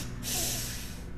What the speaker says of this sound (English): And we're going to inhale 3 sniffs.